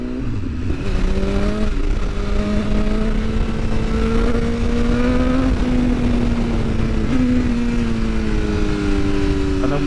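A 2022 BMW S1000R motorcycle accelerates through the gears on the road, its engine note rising in pitch several times with brief shift dips, loud and close under wind noise.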